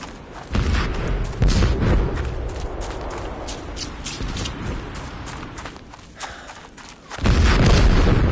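Loud bursts of gunfire and heavy booms in the video game Ad Infinitum, with a rumbling battlefield din between shots and a big blast near the end.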